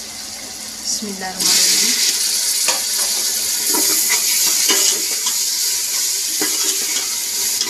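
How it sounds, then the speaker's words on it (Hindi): Potato cubes tipped into hot masala for aloo shimla mirch, then a loud, steady sizzle of frying with scraping stirring strokes throughout; a brief voice is heard just before they go in. "जब आलू मसाले के अंदर डालते हैं तो इनकी अच्छी बुनाई कर लिया करें"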